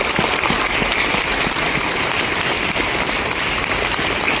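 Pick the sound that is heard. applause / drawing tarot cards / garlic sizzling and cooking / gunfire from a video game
applause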